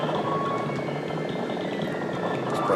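Helicopter rotor chopping steadily through the whole moment in the SNES game Contra III: The Alien Wars, loud and continuous with layered game sound effects, no talk over it.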